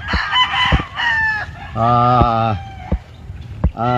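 A rooster crows loudly and close by, with a long harmonic cock-a-doodle-doo, surrounded by sharp clucks and squawks from nearby fowl.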